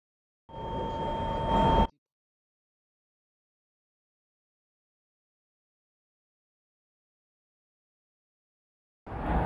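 A train in a Roblox game on the Delta Line gives one short, steady burst with two clear tones, then falls silent.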